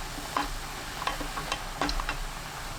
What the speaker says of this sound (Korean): 국간장 1큰술, 고운 소금 3분의 1 큰술 넣고 센 불로 30초 볶습니다.